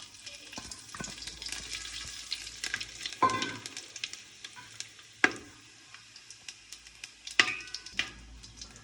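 Spices hit hot white oil in a pan for a fish-head muri ghonto. A crackling, spitting sizzle carries on close up, with several loud pops and bursts breaking through the steady frying.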